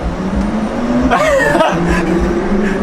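Mercedes AVTR concept car pulling forward, a smooth electric whine with rising tonal hum over low rumble, close and steady, with brief speech nearby.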